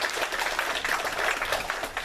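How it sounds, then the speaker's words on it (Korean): A church congregation at a Sunday service gives a round of thanks applause, a steady, even wash of many hands clapping that fills the room at moderate loudness from start to finish. "감사의 박수 한번 하도록"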